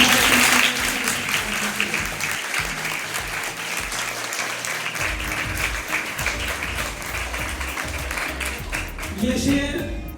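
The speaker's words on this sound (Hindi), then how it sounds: "ज़ोरदार तालियों के साथ" Loud, dense applause fills a conference hall at a parent-teacher meeting, a steady sustained wash of many hands clapping together from start to end, with faint voices mixed in underneath.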